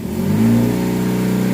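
A Chevy HHR's engine revs while in drive with the brake held, a close, steady mid-pitched drone that climbs briefly and then holds at an elevated pitch, with no voices.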